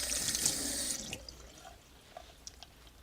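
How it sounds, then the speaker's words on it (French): Hot tap water running over disassembled nebulizer parts in a sink, a steady splashing stream that stops after about a second, leaving scattered drips and small clinks. "consiste simplement en un rinçage à l'eau chaude de chaque pièce du nébulyseur"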